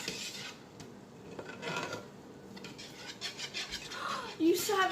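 Cake batter is mixed in a bowl, with soft scraping and knocking of a utensil against the bowl, close and fairly faint, along with brief light clinks and a short vocal sound near the end.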